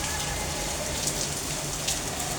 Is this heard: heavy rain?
yes